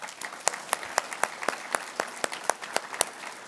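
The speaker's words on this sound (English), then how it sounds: "One more big round of applause." An audience at a service excellence awards ceremony applauds, a soft, thinning patter with a few louder individual claps standing out.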